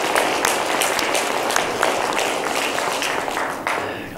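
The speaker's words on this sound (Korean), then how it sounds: "우리 하나님께 다 같이 영광의 박수 한번 올려드리겠습니다" Congregation at a Sunday afternoon church service claps together in a sustained, even round of applause that slowly tapers toward the end.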